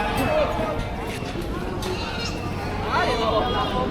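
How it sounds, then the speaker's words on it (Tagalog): Large goats bleat repeatedly at a busy Philippine livestock market, their wavering calls rising over a steady murmur of crowd chatter and nearby speech. "Malalaking mga kambing."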